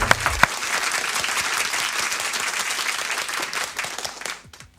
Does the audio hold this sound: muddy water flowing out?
no